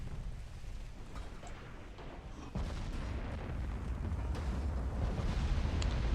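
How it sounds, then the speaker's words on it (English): Torpedoes strike warships in the naval game Ultimate Admiral: Dreadnoughts, with a continuous low rumble of distant blasts and booms that swells louder partway through. "And here come a couple torpedoes."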